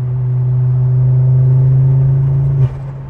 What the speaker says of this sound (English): I hope the mic's picking up them dump valve noises because it sounds so good and old school